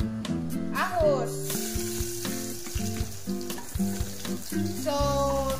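Garlic sautés in hot oil over a strong flame for pork giniling, giving a loud, close, continuous sizzle. Scraping stirs run over it, along with a few brief higher tones.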